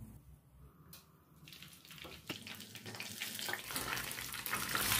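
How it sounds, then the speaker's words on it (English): Sizzling and crackling of sausages frying in a hot pan builds steadily louder, a dense hiss with occasional pops and no talking. "start frying."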